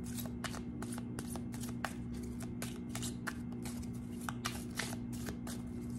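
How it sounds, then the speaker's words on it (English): Oracle cards being shuffled and drawn, a steady run of soft rapid flicks and riffles over a constant low hum, close and quiet with no talking. "We're drawing a card."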